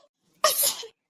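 A single loud, close sneeze from a cartoon character in a Tamil school comedy, one sharp burst after near silence, with no speech around it.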